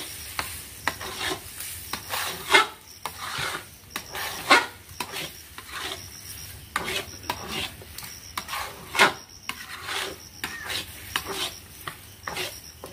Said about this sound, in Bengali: ধোকা বড্ড কড়ায় লেগে যায়, ওটাকে নাড়তেই থাকতে হয়।